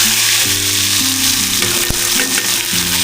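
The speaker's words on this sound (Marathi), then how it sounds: "तर सर्वप्रथम आपण तेल तापल्यानंतर कांदा टाकून घेऊया." Onion drops into hot oil for a Konkan-style crab curry, setting off a loud, dense, continuous sizzle right up close, with a steady low hum underneath and one sharp clack near the middle.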